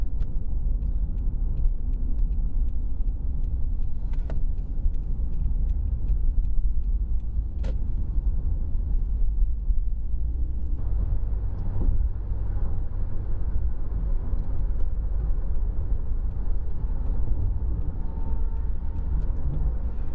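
Toyota Solara, a cheap car recently fixed of a start-and-quit fault, cruising on the interstate with a steady low engine and road drone, constant and fairly loud, a couple of faint clicks early on and no talking.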